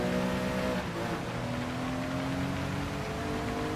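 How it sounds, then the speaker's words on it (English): A race car in Gran Turismo 7 accelerates out of a corner, its engine a loud, steady drone whose pitch shifts as it climbs through the revs. "Easy on the accelerator coming out the corner."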